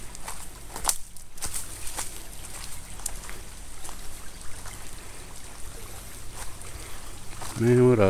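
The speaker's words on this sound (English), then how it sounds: "man, what a beautiful little creek to be" Small backyard creek flowing softly, a faint continuous trickle and gurgle of water close by, with occasional rustles and knocks, then a voice at the very end.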